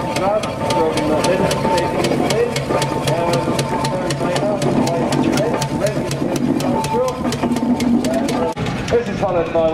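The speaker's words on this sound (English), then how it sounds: "that's followed by another Burrell, three-speed Burrell, this one, owned and used by Rudd from Liverpool" A three-speed Burrell steam traction engine in a rally parade at Strumpshaw gives off a steady, evenly spaced chuff of exhaust beats over a continuous mechanical rumble, close and loud throughout.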